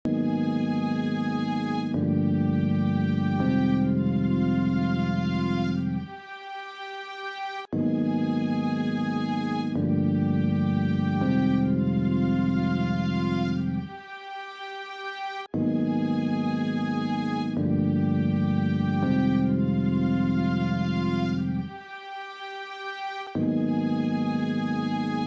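Violins layered over a looping beat intro with electric piano, playing sustained harmonic phrases that repeat in steady cycles, loud and full with brief dips between loops.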